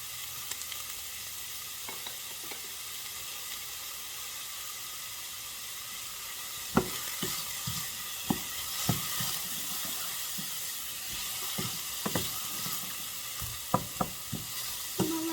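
Chicken for stroganoff frying in a pan, a steady loud sizzle with occasional sharp clinks and pops as it is stirred, no talking.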